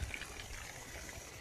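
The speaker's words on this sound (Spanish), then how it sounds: "Y pues por acá está cayendo el agua." Water pouring out from a Bestway pool drain pump, a faint, steady trickling stream running continuously without pause.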